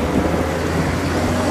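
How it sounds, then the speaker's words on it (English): Heavy pouring rain at a city intersection after a night-long downpour, a steady dense broadband wash with a low rumble underneath, continuous and close throughout. "it's been pouring rain since last night till this morning."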